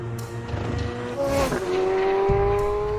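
The naturally aspirated engine of a 2023 Corvette Z06 mid-engine sports car, revving hard with a rising, sustained high-pitched wail and a sharp gear change partway through, loud and close.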